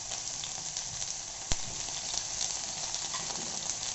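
Thin-sliced brinjal (eggplant) sizzles steadily in hot oil in a pan, a dense continuous frying hiss with one sharp click partway through and no voices.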